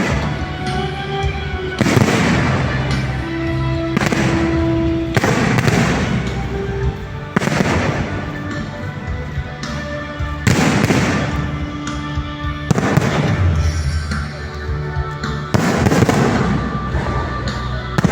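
A fireworks display booms over Mendiola during the inauguration of the 17th Philippine president, loud bursts arriving every two to three seconds, each followed by crackling and sizzling tails against a steady crowd murmur.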